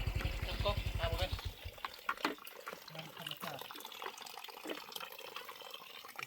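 Water runs steadily in a remote Lao village with no electricity, a rushing wash heard beneath nearby voices talking throughout.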